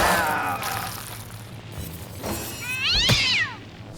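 A cat meows in the fantasy role-playing game Divinity: Original Sin. One drawn-out, rising and falling meow comes near the end, close and fairly loud, over a low game background with an earlier fainter cat call.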